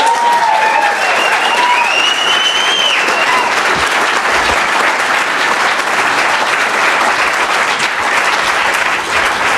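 Sustained audience applause at a 2017 Pleasant Grove mayoral and city council debate, loud and steady throughout, with a few whistles near the start.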